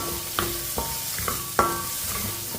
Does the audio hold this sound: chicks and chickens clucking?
no